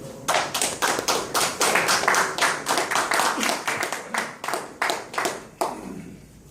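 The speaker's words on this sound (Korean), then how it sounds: "여러분 큰 박수로 청해드리겠습니다" At a commemorative event, an audience gives a lecturer a welcoming round of applause: a modest crowd of distinct, fairly loud claps in a steady patter that stops abruptly after about six seconds.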